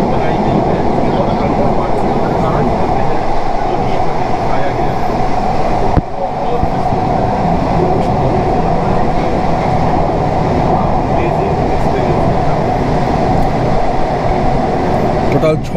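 Kolkata's underwater metro train runs through the tunnel beneath the Ganges toward Howrah, a loud, continuous rumble and rattle of wheels and carriages, steady throughout with a brief jolt partway.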